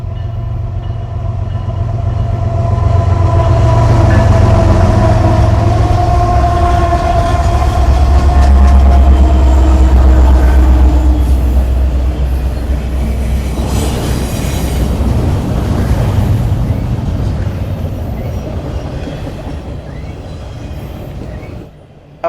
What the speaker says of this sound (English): another eastbound intermodal train was not too far behind it